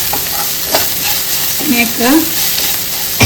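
Squid sizzling steadily in a pan for a Tulu-style sukka, with scraping stirs of a spatula over the constant frying hiss and a brief word spoken.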